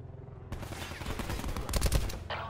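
Sniper gunfire in a military video game: a dense volley of loud shots and heavy low booms starting abruptly after a quiet opening, with crackling impacts clustered near the end.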